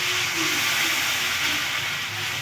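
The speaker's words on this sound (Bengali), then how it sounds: "এই পরিমাণে জল দিয়ে দিলাম" Water poured into a hot pan of cauliflower curry gives a steady, loud sizzling hiss that holds evenly throughout, close and without voices.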